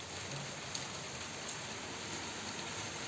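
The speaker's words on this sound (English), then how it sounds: "The raindrops are going straight away, and then you can see the voice." Steady rain falls in a dense, even hiss that fills the whole stretch, with a few faint, isolated drop ticks poking through and no one speaking.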